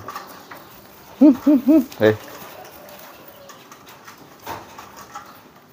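A kolong pigeon nearby utters three quick rolling coos in a row and then a brief fourth note, with quiet background sounds around it.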